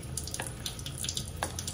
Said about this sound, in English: I might even want to pour a little bit more cold water in here.